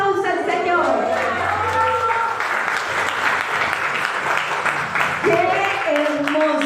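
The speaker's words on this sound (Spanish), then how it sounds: "Dale un aplauso al Señor." A church congregation claps together during a Sunday service, a dense, continuous applause that lasts several seconds, with a woman preacher's voice speaking over the start and the end.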